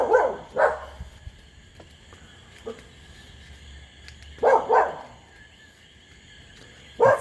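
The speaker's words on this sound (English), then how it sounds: "So the dogs are barking at the cats." Dogs bark at cats in a garden in Humacao, Puerto Rico, giving a few sharp barks near the start, a pair of louder barks midway and one more at the end, with quiet gaps between.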